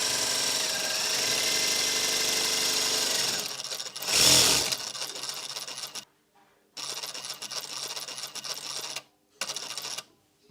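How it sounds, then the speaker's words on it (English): Sewing machine stitching a straight seam along a pleated fabric face mask, running in steady bursts that stop and restart, with a loud continuous run first and shorter runs separated by brief pauses. "Now you're stitching a straight line all the way down."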